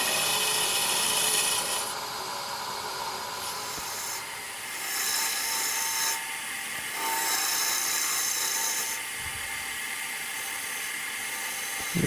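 A 3/8 spindle gouge with a swept back grind hogs out timber from a wooden stem turning on a lathe, producing a steady loud rasping cut that swells and eases in passes.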